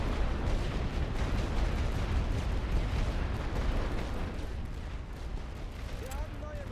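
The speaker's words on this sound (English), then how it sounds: "More artillery!" Continuous rumbling barrage of artillery fire from the WW1 strategy game The Great War: Western Front, dense overlapping booms and blasts filling the whole stretch at steady loudness.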